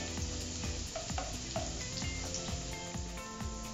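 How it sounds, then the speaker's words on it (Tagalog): Garlic sautéing in a little cooking oil in a pan for pinakbet, a steady close sizzle with stirring and a few light clinks of utensil against the pan. "Simulan na po natin yung pagbigisa."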